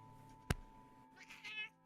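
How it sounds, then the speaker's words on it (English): A cat gives a single clear meow, near and fairly soft, after a sharp knock-like thump, over a steady background hum. "Is this a kitty?"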